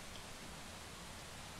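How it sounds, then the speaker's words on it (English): Steady rain ambience from the stealth video game Thief, a faint, even hiss of falling rain that carries on without change or any voice. "Look at the little rain animation."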